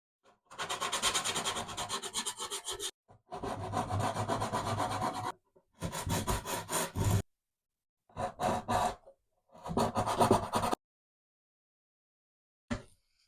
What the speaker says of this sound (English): We're just going to use a sanding pad.